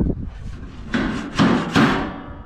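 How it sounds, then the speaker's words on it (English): Three heavy, ringing metal blows from hammering bolts on a grain bin being retrofitted for ear corn storage, spaced about half a second apart, close and loud with a resonant tail. "Well, yeah, but you're hitting the bolts down here."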